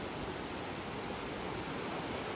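A river in full flood at Khed Bharane roars past at high pressure: a steady, dense, close rush of water that stays unbroken and evenly loud throughout, with no voices.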